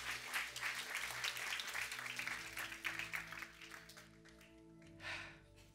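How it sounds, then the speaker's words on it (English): A congregation claps at a church service. The dense applause is fairly soft and steady, thins out toward the end, then swells briefly in a last burst. "Give yourselves a big hand clap because you were faithful today."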